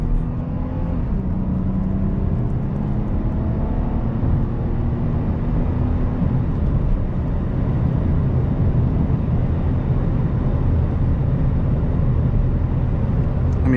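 A 1998 Lexus GS300 engine heard from inside the car while driving, a steady low drone with road and wind noise, a slight rise in pitch early on, constant and fairly loud throughout.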